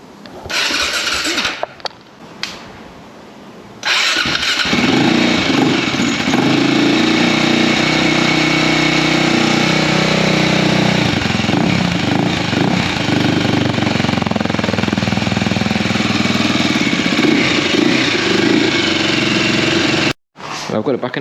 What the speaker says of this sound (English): get the KTM started